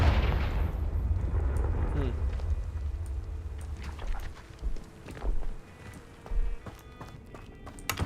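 Confringo, a fire blast spell in Hogwarts Legacy, erupts as a loud booming whoosh that rumbles and fades over several seconds, followed by scattered softer impacts and thuds.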